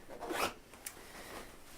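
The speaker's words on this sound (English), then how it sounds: "To keep it snug, I have side zippers in that side seam." A side zipper in the seam of a cosplay costume is pulled in a couple of quick, close, quiet zips.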